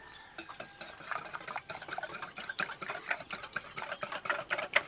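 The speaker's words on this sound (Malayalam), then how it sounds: "നമുക്കിനി ഇത് നന്നായിട്ടൊന്ന് അടിച്ച് കലക്കാം" Eggs are beaten with salt and pepper powder in a bowl, a fast, rhythmic run of light clinking whisk strokes heard fairly softly and alone.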